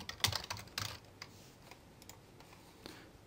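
Quick, light keystrokes on a computer keyboard as an email address is entered into a web app form, a short burst of clicks followed by sparse taps, close and quiet with no talking.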